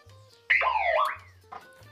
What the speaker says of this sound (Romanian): Da, sistemul de alarmă.